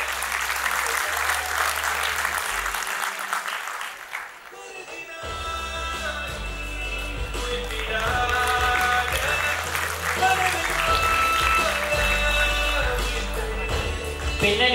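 Audience applause at a music academy annual concert, broad sustained clapping from a hall crowd that gives way partway through to loud instrumental music over continued clapping.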